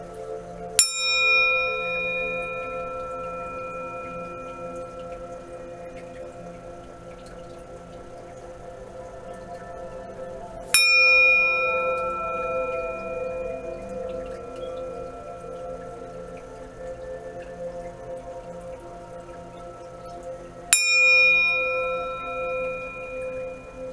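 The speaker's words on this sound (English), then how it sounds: "I'm about to chime it now" A chime is struck three times, about ten seconds apart. Each strike gives a bright attack followed by a long, ringing metallic decay with no talk.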